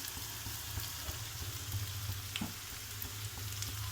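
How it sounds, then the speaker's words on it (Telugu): Ginger garlic paste fries in a pan for an egg curry, a steady close sizzle with faint crackles that holds without a break and no talk. "పచ్చివాసన పోయే వరకు ఫ్రై చేయాలండి. అల్లం వెల్లి పేస్ట్ కలిపేసుకుందాము."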